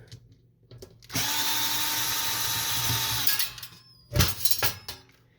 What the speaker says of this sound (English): I was able to get to it with just a screwdriver because my tip is not long enough on the screw gun.